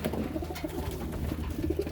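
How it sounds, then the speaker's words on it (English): Serbian Highflyer pigeon, an older bird, gives soft repeated coos close by, a low rhythmic murmur over a steady background hum. "So this is one of the old birds that I'm using for the youngsters to fly."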